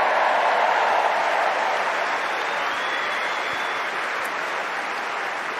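A Centre Court crowd at Wimbledon applauds in a dense, sustained wash of clapping that starts loud and eases slightly as it goes on, with no clear voices above it.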